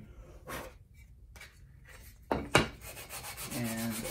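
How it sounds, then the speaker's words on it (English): Sandpaper rubbed by hand over a wooden Scamp camper cabinet door, several short scratchy strokes at an uneven pace, with two louder, firmer passes near the end. "I'm just gonna take the sandpaper, sand it until all those little pieces that are hanging off there are gone"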